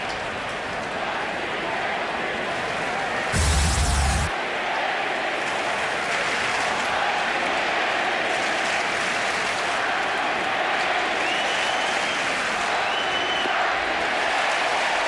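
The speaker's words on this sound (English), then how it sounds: "Crowd getting loud." Fenway-style baseball stadium crowd at a 2004 Red Sox game swelling into a loud, sustained roar and cheering after a strikeout swing, with a brief sharp burst of noise early on.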